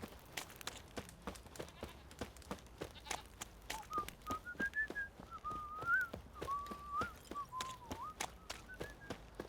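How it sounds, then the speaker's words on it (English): A character in The Witcher 3 whistles loudly in a wavering, sliding tune that starts partway through, over a steady game soundscape of repeated ticks and clicks. "Wow, that guy can whistle really loud"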